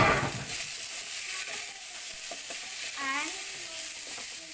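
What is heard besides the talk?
squid and tomato sautéing in a pan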